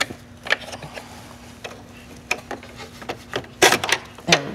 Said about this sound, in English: I'm just going to remove that foot because I have to switch to a sewing foot